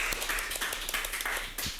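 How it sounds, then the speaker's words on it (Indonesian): Studio audience clapping for a guest named Aris, a brief run of scattered hand claps at moderate distance, fairly soft and uneven. "Tepuk tangan dong buat Mas Aris"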